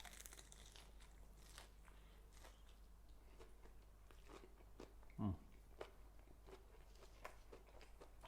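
Someone bites into and chews a Scotch egg of sausage wrapped around a runny egg. The soft, faint mouth sounds are close up, with one brief louder crunch partway through.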